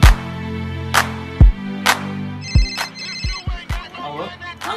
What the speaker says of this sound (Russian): Антонио, кто там тебе звонит?